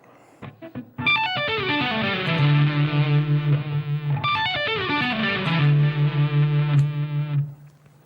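Full-speed metal solo lick on a distorted electric guitar: two rapid descending note flurries, each closing on a long wavering held note, loud and solo with no speech.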